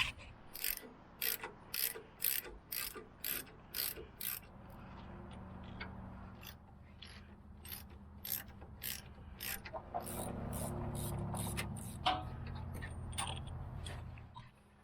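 A ratchet wrench loosening the two 10mm caliper bolts on Ford F150 rear brakes, bursts of rapid close clicking, then slower scraping and clicking as the bolts spin out, with no talking.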